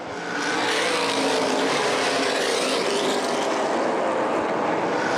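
Late model race cars roar around Winchester Speedway in a dense, sustained engine drone that swells in quickly and holds loud and steady as the pack passes.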